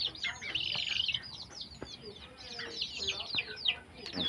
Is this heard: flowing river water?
no